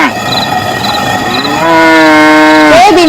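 A cow lows loudly and close at night in a rural Indian village, one long drawn-out moo that rises and holds, with faint insect chirping behind it and no talk.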